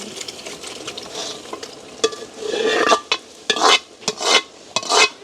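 Squid frying in a pan for biryani is stirred with a utensil, producing a steady sizzle broken by repeated scraping sweeps against the metal pan, close and fairly loud.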